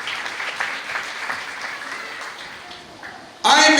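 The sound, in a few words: audience applause for Jesus Christ at church service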